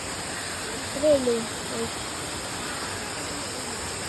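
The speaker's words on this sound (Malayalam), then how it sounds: "ഇതാട്ടോ വെള്ളച്ചാട്ടം." The Irukki waterfall makes a steady, broad rushing hiss throughout, with a person's voice heard briefly over the water.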